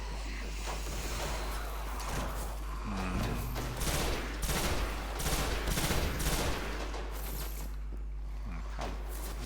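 Rapid gunfire in Destiny, dense bursts of automatic shots fired from the hip, loud and sustained with brief swells, over a constant low hum.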